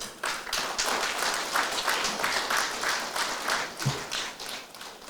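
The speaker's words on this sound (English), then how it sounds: "So give yourselves a round of applause." Audience clapping at a fellowship awards and certificate ceremony, a steady rippling round of applause from a moderate crowd, fairly even for about five seconds with a faint thud near the end.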